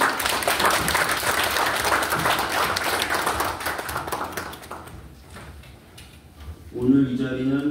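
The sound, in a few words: audience applause welcoming a speaker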